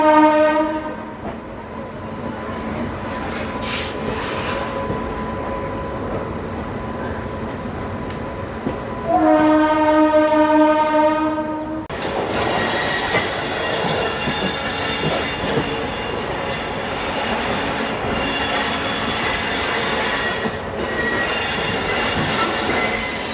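The 03161 Kolkata-Digha Special Express pulls out of Kolkata with loud, sustained horn blasts over a steady rolling rumble, then shrill wheel squeal and clattering carriages as it gathers pace.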